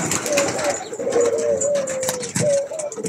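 Pigeons coo repeatedly at close range in a large flock kept alongside chickens, soft throaty calls overlapping over a busy background of bird noise.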